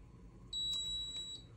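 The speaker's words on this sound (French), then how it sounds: "ça signifie le bip long que la télécommande est prête à utiliser en mode appui" A single long, high electronic beep from a sound-beacon remote control sounds clearly and steadily for about a second, with a faint click partway through and quiet room hiss around it.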